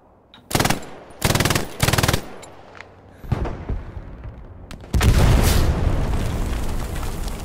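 Bursts of automatic gunfire from a military video game battle, three loud machine-gun volleys close by, then scattered single shots and a long heavy rumble of firing and explosions.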